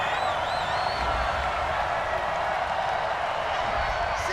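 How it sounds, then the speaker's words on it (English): Home football crowd at an NFL game between the Tampa Bay Buccaneers and Seattle Seahawks, booing a pass interference flag on third down: a steady, broad stadium roar that holds throughout without clear breaks. "Some boos coming down right now from this home crowd after that call."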